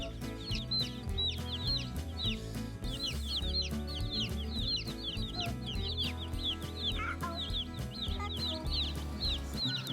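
Many chicks, meat chicks and future laying hens, cheep in high, rapid peeps over a steady low hum, a busy, continuous chorus close by.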